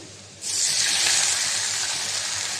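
Water splashed into a hot pan of fried onions bursts into a loud, steady sizzling hiss that starts abruptly and holds for a couple of seconds, with no talking.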